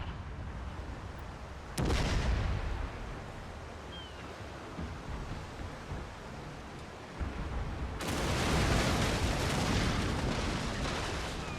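Naval cannon fire in Napoleon Total War, with ships' guns booming out in a broad roar over a constant wash of sea-like noise, one heavy blast early and a longer, denser volley near the end.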